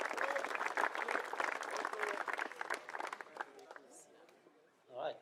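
At a youth football awards presentation, an audience claps in a dense round of applause that is fairly faint and fades out after about three seconds, followed by a brief voice near the end.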